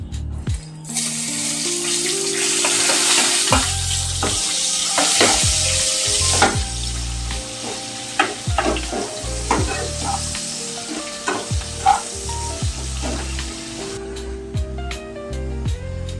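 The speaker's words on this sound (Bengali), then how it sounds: "কোচানো পেঁয়াজটা আমার ভাজা হয়ে গেছে।" Chopped onions frying in oil with bay leaf, cumin, dried chilli and whole garam masala for a Bengali katla kalia, a loud close sizzle broken by repeated scraping and clinking of a spatula stirring the pan.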